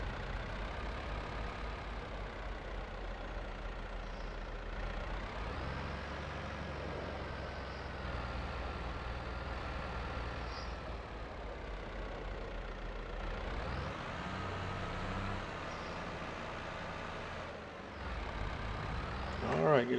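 A John Deere tractor engine runs steadily in Farming Simulator 22, a continuous mid-pitched drone with a low rumble that holds at a constant level for the whole stretch, with talk over it.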